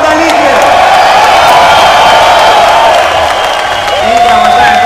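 A large esports event crowd cheers and applauds loudly and continuously after a match, a dense roar of clapping and shouts with an announcer's voice woven through it.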